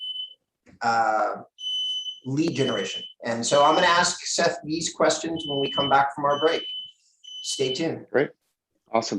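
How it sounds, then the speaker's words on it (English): A home fire alarm gives short, high, thin beeps, intermittent and fairly faint beneath continuous speech from a person talking throughout. "That's my fire alarm."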